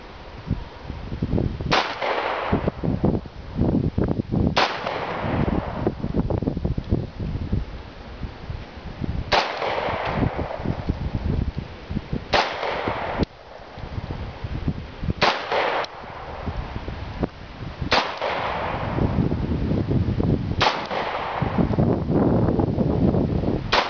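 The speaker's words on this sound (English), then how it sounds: "It's been a while since I shot this gun. It does have a decent pop" Ruger P345 pistol firing outdoors: about nine loud, sharp gunshots spaced irregularly a few seconds apart, with wind noise and rustling between the shots.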